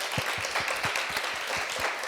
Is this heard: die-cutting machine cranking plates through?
no